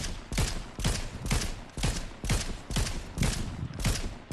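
Gunfire in a first-person shooter video game: a loud, rhythmic series of sharp burst volleys, roughly two per second, each crack followed by a brief mechanical rattle, with no talk over it.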